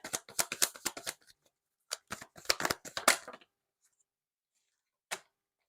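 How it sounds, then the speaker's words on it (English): Rapid riffling of tarot cards being shuffled in several quick bursts, crisp and close, with pauses between and a final short riffle after a gap. "You saw me shuffle the cards, guys."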